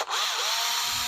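Power driver spinning out screws on a Toyota FJ40 during a leaf spring conversion, one short steady whirring burst heard up close with no talk.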